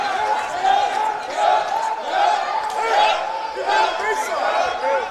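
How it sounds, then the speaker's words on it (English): Home crowd at a Reinhardt University Eagles basketball game cheering in rhythmic, chant-like surges, a loud, dense mass of voices rising and falling steadily throughout. "the Reinhardt crowd having a little bit of fun cheering on their hometown Eagles"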